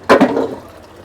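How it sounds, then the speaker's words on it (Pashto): Water is poured into a cooking pot, a short close splash followed by a brief trickle that fades within a second. "دې پتیله کې لږې اوبه واچوه"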